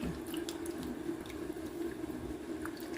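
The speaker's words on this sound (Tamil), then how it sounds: "ஒரு பாதி தக்காளி பழத்தை நல்லா கையால் கசக்கி விடுவேன்" Half a tomato squeezed and crushed by hand in a pot of water, giving soft, continuous wet squishing and dripping sounds close by.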